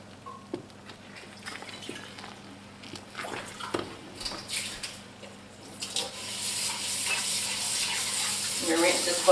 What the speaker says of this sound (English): I'm going to go ahead and add that in and give it a stir.